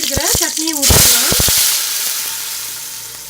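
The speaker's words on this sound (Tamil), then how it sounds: "அரைச்சி வச்சிருக்கிற சட்னியை ஊற்றிக்கலாம்." Ground chutney poured into hot tempering oil with mustard seeds, urad dal and curry leaves, bursting into a loud sizzle and crackle that builds after a brief spoken phrase and then fades into a steady hiss.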